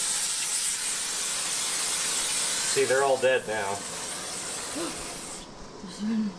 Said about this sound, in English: spray insecticide everywhere